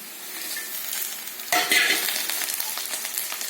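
Curry leaves and dried red chillies hit hot oil with a sudden loud crackling sizzle after a quieter simmering start, then keep spitting and popping steadily.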